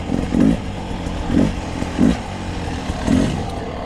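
A 2020 Beta 300RR Race Edition two-stroke dirt bike revs loudly in four sharp throttle stabs, each rising and falling quickly over a steady idle, with no talking.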